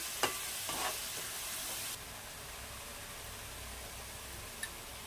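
Fish curry in a tamarind gravy, made with coconut milk, bubbles and sizzles steadily in a pot, a soft continuous hiss with a few light stirring knocks near the start.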